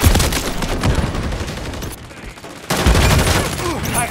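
Video game gunfire, dense bursts of rapid shots close and loud, pausing briefly before another burst resumes.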